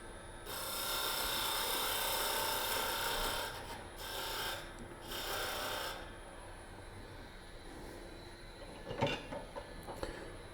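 Sanding a turned wooden wig stand by hand, a steady rasping rub running for several seconds in a few strokes, then breaking off into quieter, intermittent scraping.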